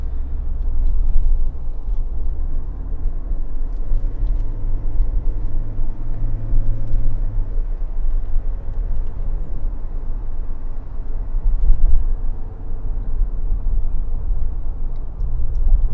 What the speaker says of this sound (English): if the rev's a little higher, or you accelerate, you definitely hear a bit of the roughness of the diesel